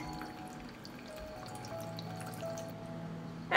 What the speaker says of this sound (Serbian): stavit ću ovaj poklopac sa rupicama da mogu lakše da iscedim vodu, zavrnut ću na teglu i sipati u šerpu